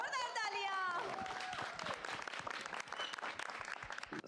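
Studio audience on the DD Urdu singing competition Awwal Gulukar bursts into loud, dense applause for the winner, starting over a fading musical flourish and then continuing as sustained, crowded clapping for several seconds.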